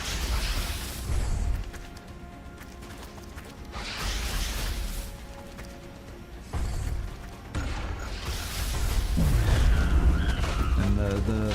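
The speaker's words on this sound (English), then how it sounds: "So I'm going to use my final grenade," Explosive booms and whooshing blasts from a thrown grenade in the strategy game XCOM Long War, bursting at intervals among mechanical clatter and rumble, with someone talking over parts of it.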